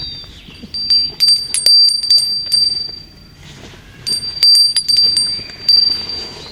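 A bell rings in bright, shimmering bursts at a spiritual workshop, with two clusters of repeated strikes separated by a brief lull and their high tones lingering.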